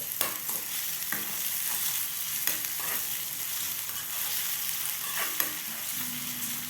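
Sliced onion dropped into hot ghee in a pan, giving a steady close sizzle with a few sharp clicks and stirring scrapes, no voices over it.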